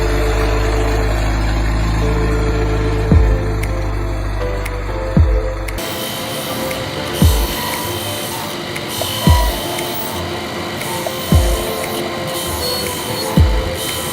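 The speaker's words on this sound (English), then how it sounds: "Giant plastic screws powered by a motor traverse through snow." A motor runs steadily while giant plastic screws churn through snow. A loud engine drone first gives way to a rougher grinding rumble, with regular heavy thuds about every two seconds.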